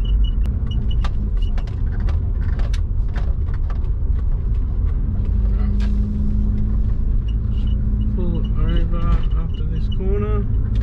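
Compound-turbo Subaru car engine accelerating under boost in third gear, a steady loud low rumble throughout with rising whine-like tones near the end, under occasional talk.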